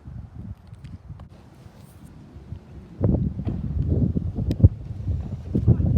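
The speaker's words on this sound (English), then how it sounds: "Oh, getting really windy." Wind buffets the microphone outdoors during a partial solar eclipse in low rumbling gusts, quieter at first then swelling into heavier, louder blasts in the second half.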